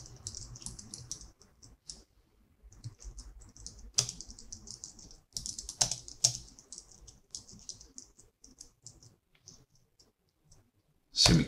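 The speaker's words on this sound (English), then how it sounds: "So let's type that in." C code typed on a computer keyboard: close, crisp keystroke clicks in uneven bursts and pauses, ending with a louder cluster of keys.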